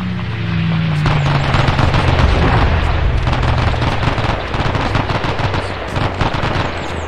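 Machine gun fire in the ArmA 3 video game during a Normandy airborne assault scenario: dense, continuous bursts of loud automatic gunfire with overlapping distant shots that last several seconds.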